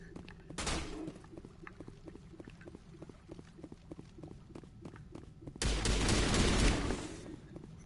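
Gunfire in Mass Effect, with rapid sharp shots in a steady run and two louder bursts, under faint background.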